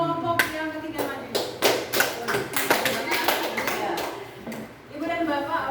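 An audience of teachers at a school learning session in Muntok claps in short bursts for the third presenting group, sharp distinct hand claps in repeated groups, with a voice speaking underneath and between them.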